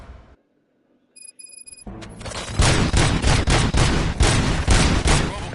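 Rapid bursts of gunfire in the Robocop Rogue City video game, a dense volley of loud repeated shots after a brief electronic beeping, close and continuous.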